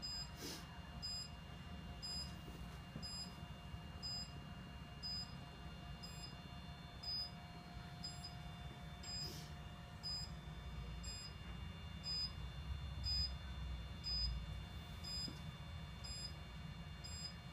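A steady electronic beeping from a K-Laser therapy laser machine repeats in a regular pulse over a low machine hum, quiet and continuous throughout.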